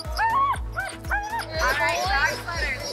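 Several sled dogs bark, yip and whimper excitedly at close range in Breckenridge, Colorado, overlapping in a noisy, restless chorus.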